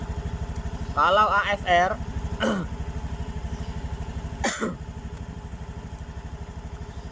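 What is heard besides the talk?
motorcycle engine running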